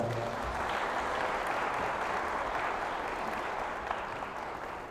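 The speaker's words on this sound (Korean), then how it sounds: "큰 힘이 될 말씀을 해주신 신랑 아버님께 다시 한번 박수 부탁드리겠습니다." Wedding guests in a Korean wedding hall clap for the groom's father, a soft, continuous wash of applause from a large crowd heard at some distance, tapering slightly at the end.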